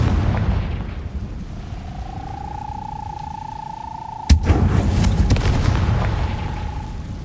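A Confringo explosion spell goes off in Hogwarts Legacy: a rising whistling tone builds for a few seconds, then one sharp loud blast bursts, followed by a rumbling tail.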